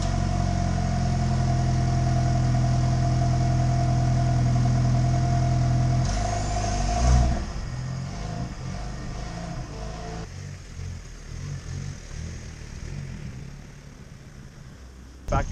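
A manual two-door 2021 Ford Bronco Badlands idles with a low, steady engine hum while being pulled out and turned around, then the tone shifts to a quieter, rougher rumble; brief voices are heard.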